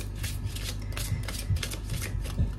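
Oracle cards are shuffled by hand close up, a run of soft, rapid riffling flutters with small taps at regular intervals and no voices.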